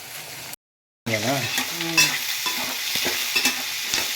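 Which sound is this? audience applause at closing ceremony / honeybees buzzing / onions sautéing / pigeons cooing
onions sautéing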